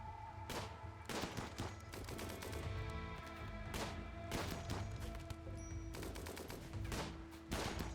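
Repeated gunshots ring out in the colony game Rimworld, sharp cracks in irregular volleys over steady background music, quiet overall and with no talking.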